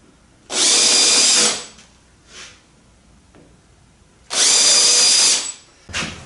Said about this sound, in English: With all the holes drilled from the outside, halfway through the 1/4 inch cedar